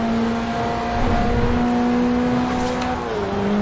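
A car engine in a racing video game drones loudly and steadily with sustained tones, dipping slightly in pitch toward the end, with no voices over it.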